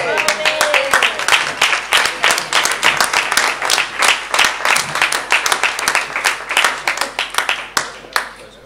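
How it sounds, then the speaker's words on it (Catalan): Audience at a rainbow flag-raising event in Reus claps steadily for about nine seconds, dense, close and lively, with a few cheers and voices mixed in. "Un aplaudiment per ell."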